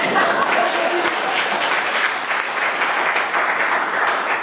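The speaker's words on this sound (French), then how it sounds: "alors là, on peut l'applaudir très fort" An audience at a magic show claps enthusiastically, a dense, steady wash of applause filling the hall without pause, fairly loud and even throughout.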